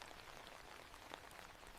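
Gentle rain falls steadily on a wet street at night, a soft, even hiss of drops with no voices.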